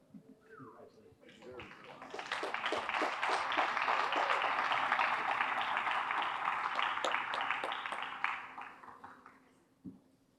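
Audience applause at a firefighters' awards banquet swells quickly into a loud, dense wash of clapping that holds steady for several seconds before tapering off, with a few scattered claps and murmurs at the end.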